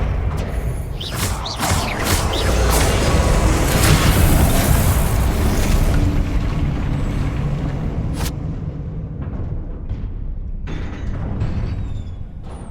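Spell explosions in the video game Hogwarts Legacy boom and roar loudly over several seconds, a dense rumbling blast that fades out with a few scattered bursts near the end.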